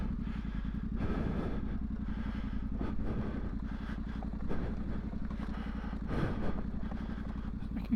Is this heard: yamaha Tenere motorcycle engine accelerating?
yes